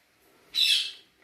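A pet bird named Ruby giving a single harsh squawk, loud and close, lasting about half a second against a quiet room.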